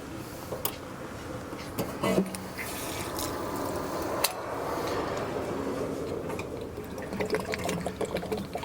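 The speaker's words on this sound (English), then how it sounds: "As you can see, the water's coming out." Water drains out of a Forest River Puma camper during winterizing, a steady gushing and trickling flow with occasional splashes and clicks, fairly close and continuous with no talking.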